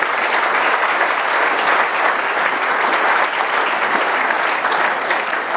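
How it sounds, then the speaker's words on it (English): Dense, steady applause fills a dinner hall honouring Manchester United, many hands clapping loudly and evenly throughout with no pause. "A big round of applause for the Manchester United."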